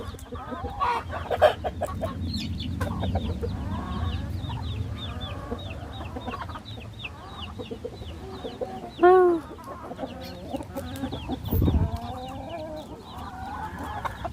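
Baby chicks clucking and chirping close by as they eat snacks, with scattered short peeps and one brief louder squawk over a steady farmyard background.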